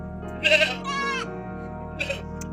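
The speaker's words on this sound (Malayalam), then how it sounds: "ആടുകളെ ആട്ടുംകുഞ്ഞിനെയെല്ലാം ഭയങ്കര ഇഷ്ടമാതാനും ദേവൂട്ടിക്ക്" Goats and young kids bleat in a few close, wavering calls, two longer cries in quick succession and a shorter one after a pause.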